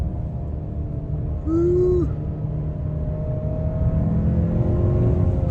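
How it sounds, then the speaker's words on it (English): A 2023 Hyundai Santa Fe Calligraphy's engine drones steadily while accelerating, with a brief rising whistle from the turbo partway through and a constant low rumble underneath. "We hear a little turbo blow off too once you let off."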